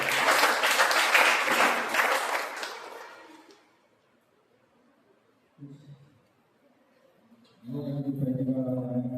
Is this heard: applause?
yes